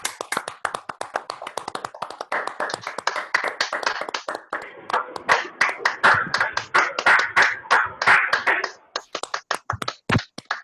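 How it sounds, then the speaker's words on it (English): Scattered clapping from participants unmuted in an online election meeting. Several people clap through their own microphones, so the sound is uneven and choppy. It swells in the middle and then thins to a few last claps, close and loud. "Unmute yourselves and give them a big round of applause."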